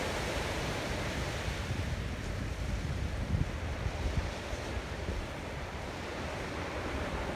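Ocean surf on a beach at Phi Phi Island, Thailand, a continuous broad wash of waves with wind noise, steady and moderately loud with no talking.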